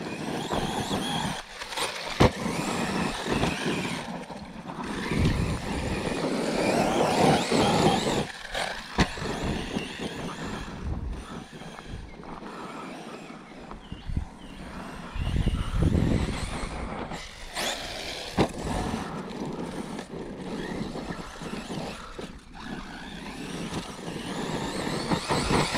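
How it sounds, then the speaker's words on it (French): A Hobbytech K8 Elite engine drives an RC car outdoors in wind, giving a steady, fairly loud motor drone that rises and falls as it passes, with gusty noise throughout. "le moteur s'appelle un K8 Elite de chez Hobbytech"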